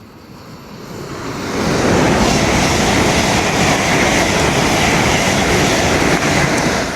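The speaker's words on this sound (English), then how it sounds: "Getting ready to pass through now will be an LNER Azuma, working a service from London King's Cross to Leeds." An LNER Azuma train on a London King's Cross to Leeds service passes through Retford station on the East Coast Main Line. It comes in as a loud, broad rushing roar that swells within two seconds and then holds.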